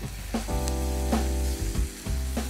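Marinated pork grilling in a lightly oiled pan gives a close, steady sizzle with occasional scraping or stirring sounds.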